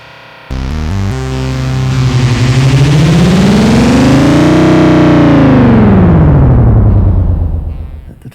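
Synth run through a Boss RE-202 Space Echo effect mode, a loud, dense, distorted wash with many layered repeats that sweep up and back down in pitch, sustained for several seconds before fading.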